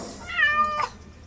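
A female cat gives a single drawn-out, rising-then-falling meow while being held and having her ears folded down before a towel wrap, close and clear over a quiet room.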